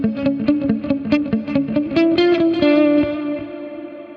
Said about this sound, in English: But now the problem is that giant wash of a reverb is being delayed.